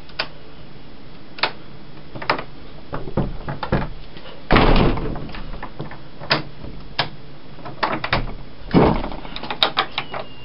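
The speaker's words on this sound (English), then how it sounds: "Took 20 seconds to even unlock this door." A heavy stuck door being worked open and slammed, with scattered clicks and rattles of the lock, a couple of louder knocking bangs, and ticking taps throughout, heard close in a quiet room.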